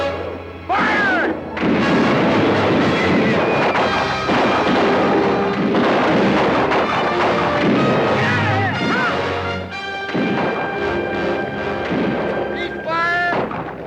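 Artillery booms and rifle gunfire crash repeatedly in a 1964 western film battle near the Apache Rifles setting, dense overlapping blasts with shouting voices mixed in throughout.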